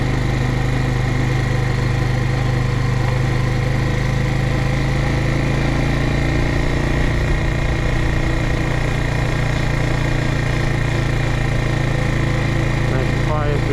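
A Suzuki TU250X motorcycle rides through a quiet neighbourhood, its single-cylinder engine a steady, loud, even drone with wind rush, heard up close throughout.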